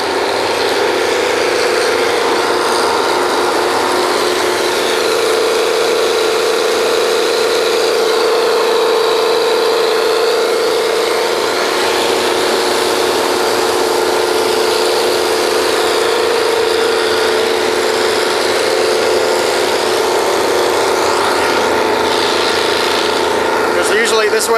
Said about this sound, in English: These are the mud pumps.